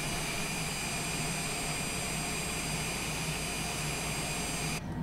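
Aircraft engine in a flight simulator game, running at a steady dense roar with a whining high tone, loud and constant throughout with no voices, then briefly dipping near the end.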